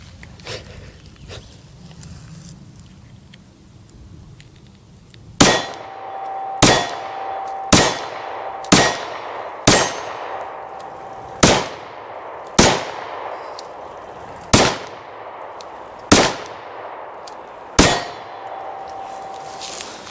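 A Glock 48 pistol fires a steady string of about eleven shots, each answered by a bright metallic ring from steel targets, at an outdoor range. The shots come every second or so after a quiet start.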